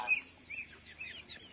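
A chicken clucking in a few short, faint calls in a quiet farm setting where a goat is giving birth.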